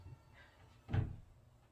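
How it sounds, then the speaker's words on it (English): A cat bangs on a bathroom door from outside, one soft, muffled thump in an otherwise quiet room. "My cat is banging on my bathroom door because I won't let it in here."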